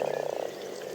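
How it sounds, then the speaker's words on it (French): Common frogs croaking in a spring marsh, a rapid purring rattle of pulses up close that fades after half a second into a soft chorus of distant calls. "les grenouilles rousses, dont le chant d'amour remplit le marais"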